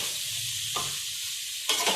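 Fried okra going into sizzling masala in a pan for achari bhindi, a steady hiss with two brief bursts of added food and stirring.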